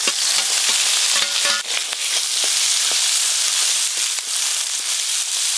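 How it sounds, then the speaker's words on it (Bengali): Crabs fry in hot oil in a home kitchen, a dense, steady sizzle with crackling pops and occasional stirring scrapes, loud and close throughout with no talk. "এবার কাঁকড়াগুলো ভেজে নেব।"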